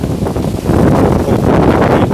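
Strong wind gusts buffet the microphone in a steady, loud roar for the whole stretch, outdoors at a rural Thai site where a bathroom drain pipe is being laid, with no clear talk over it.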